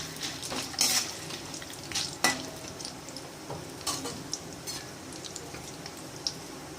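Cashews fry in oil in a pan for lemon rice, a quiet steady sizzle broken by occasional stirring scrapes and light clinks close by.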